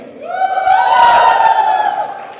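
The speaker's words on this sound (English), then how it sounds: "Alright, so all the women, give me a cheer." Women in a stand-up comedy audience let out a brief, high-pitched collective cheer that swells and fades within a couple of seconds.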